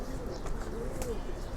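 Pigeons in a rooftop cage coo softly and repeatedly, low rounded calls close by over a steady background hum.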